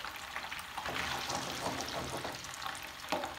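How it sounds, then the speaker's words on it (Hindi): Paneer shallow-fries in hot oil in a pan. A close, fairly soft sizzle and spatter runs throughout, with a brief louder crackle near the end and no voices. "अब इसके अंदर मैं कॉटेज चीज डालूंगी, यानी पनीर डालूंगी। पनीर को हमने शैलो फ्राई करना है।"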